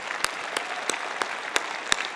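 Applause fills the hall at a spring convocation, with a few sharp, evenly spaced claps standing out close by over the steady clapping of the audience.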